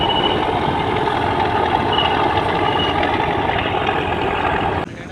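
A passenger launch on the river near Kaliganj, Bhola, with its engine running at full gear: a loud, steady, close mechanical drone and rumble that holds evenly and then drops suddenly just before the end.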